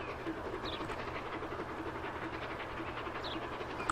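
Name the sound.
steam train rolling past, from the video game Transport Fever 2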